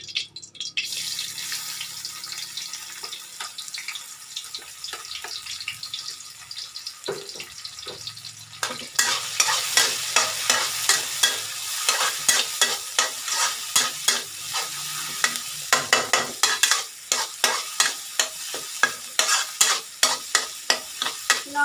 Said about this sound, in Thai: ผัดเครื่องใน